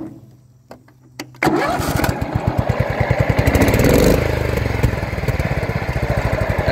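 After a few quiet clicks and a brief tug, a Simplicity riding lawn mower engine on its stock exhaust catches and runs loudly up close, settling into a rapid steady chugging idle.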